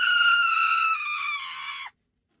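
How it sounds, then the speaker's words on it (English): A person screams loudly at the top of their lungs in one sustained, shrill, high-pitched cry that slowly wavers and lowers before cutting off into silence. "Nobody wanna hear that shit! You screaming!"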